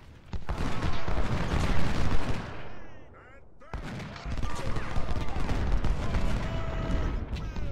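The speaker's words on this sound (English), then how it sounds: "Shooting some actual canister shots." Artillery firing canister shot in the Civil War video game Ultimate General, a loud, sustained barrage of overlapping booms and crackling volleys that dips briefly, then resumes at full intensity.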